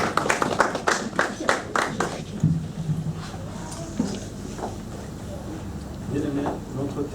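A church congregation at a Sunday service breaks into brisk rhythmic applause for about two seconds, then the clapping fades into scattered claps and murmuring voices.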